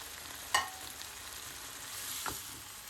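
Chicken fajita with cooked vegetables sizzles steadily in a pan while being mixed, with a couple of sharp spatula scrapes over the close frying hiss and no talk.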